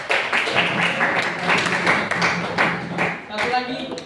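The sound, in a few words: classroom applause, clapping hands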